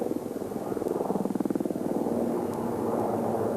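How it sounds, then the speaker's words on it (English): A Denel Rooivalk attack helicopter flies at an air show, its rotor producing a steady, rhythmic chop over a broad engine roar that swells, then settles into a continuous loud whine and rumble. "The Rooivalk attack helicopter is big, chunky and aggressive looking, but remarkably agile and manoeuvrable."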